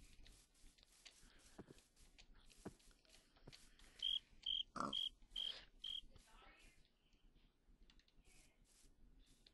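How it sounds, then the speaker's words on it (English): A cricket in modded Minecraft gives five quick, bright chirps in a row, clear above soft game sounds, scattered clicks and background noise. "Where's the cricket?"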